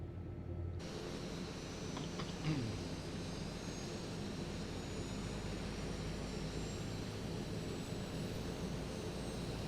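Turboprop engines of a Piaggio P-180 Avanti in MSFS 2020 hold a steady, continuous drone with a faint rising whine near the start of spool-up, even and unbroken with no talk.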